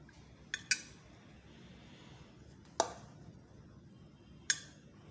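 Green chicken pulao being served from a pot: a few sharp metal utensil clinks and taps against the pot ring out separately and sparsely over a quiet kitchen background.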